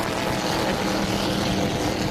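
Inboard racing boat engine idling steadily on a pool, a dense, continuous low rumble with a broadband roar, loud and constant throughout with no voices.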